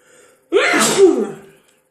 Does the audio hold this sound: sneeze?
yes